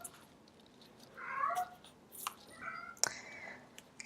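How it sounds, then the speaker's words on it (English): A pet cat meows a few times indoors, the calls clear and fairly close against a quiet room, with short pauses between them and no talking. "Excuse my kitty cat."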